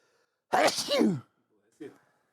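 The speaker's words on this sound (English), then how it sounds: "Oh my gosh, I'm gonna sneeze." A single loud, close sneeze with a sharp burst and trailing exhale, followed after a pause by a brief soft vocal sound.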